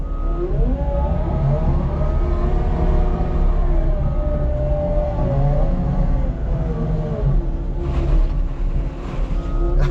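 CAT 275 XPS skid loader driving upstream through a creek to gather gravel: a steady, loud engine drone with shifting tonal whine runs the whole time, with brief splashy bursts near the end.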